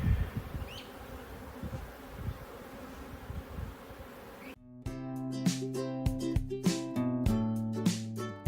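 Honey bees buzz loudly and steadily around an open hive during an inspection in summer heat, a dense droning swarm close to the listener.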